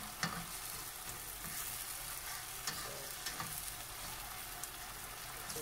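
Tomatoes fry in a pan with a quiet, steady sizzle and a few faint clicks and stirring taps, close and soft, with no voices.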